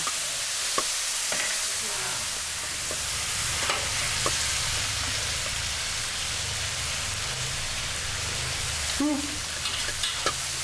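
Food sizzles and is stirred in a pan on a home stove, with a continuous soft frying hiss, occasional utensil scrapes and clinks, and faint background noise.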